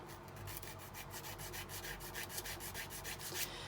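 A flat file rasps a burr off a small model ship part for an HMS Bounty build, giving a steady run of quick, close scraping strokes.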